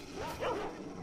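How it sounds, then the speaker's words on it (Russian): A single drawn-out bark and yelp from a mutant dog in S.T.A.L.K.E.R. Shadow of Chernobyl rises and falls over a dense background of game noise. "Собаки вон."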